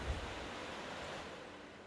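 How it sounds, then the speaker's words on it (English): Water level rising in The Legend of Zelda: Skyward Sword, heard as a broad, steady rushing wash of water that holds without a break, with no voices. "now we raise the water level."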